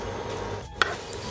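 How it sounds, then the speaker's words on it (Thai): Garlic stir-fried in hot oil in a home kitchen, a brief soft sizzle and stirring scrape with one sharper clack of the utensil near the end, close and fairly quiet. "ผัดกระเทียมให้หอมก่อนนะครับ"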